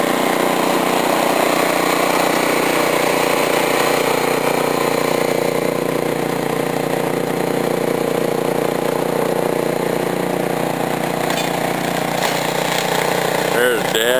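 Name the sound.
snow blower engine running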